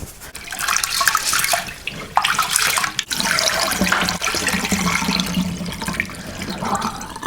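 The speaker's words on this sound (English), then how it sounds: "I wash it with hot water and salt until the water runs clear" Rice being washed under hot running water with salt, heard as a steady splashing stream with sloshing surges and brief breaks as the grains are stirred in the bowl.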